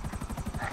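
Rotor thump of a green helicopter in GTA 5, a steady rapid low chop pulsing about every tenth of a second, fairly close and continuous with no talk.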